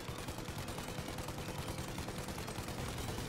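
Gunfire aimed at a plane in the video game Mafia Definitive Edition: a rapid, steady stream of shots, faint and somewhat distant, running continuously without a break.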